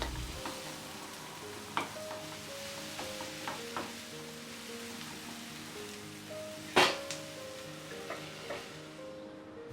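Sliced onion frying in olive oil and melted butter, a steady sizzle with soft scrapes and a sharp clatter partway through.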